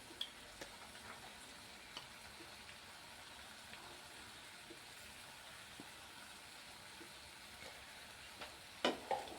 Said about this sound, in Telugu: ఇక్కడ నేను ముందుగానే నానబెట్టుకున్న జీడిపప్పును కూడా యాడ్ చేసుకుంటున్నాను దీంట్లోకి